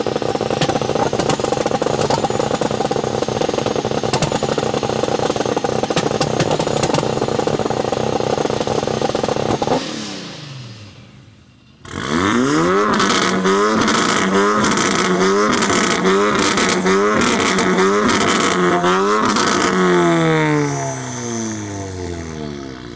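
Two turbocharged VW Golfs, a Mk2 with a 3.2-litre VR6 and a Mk8 with a 2-litre inline-four, revving hard one after the other, a sustained loud roar, a short lull, then repeated sharp rising revs close by.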